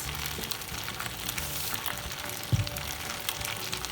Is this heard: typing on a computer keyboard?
no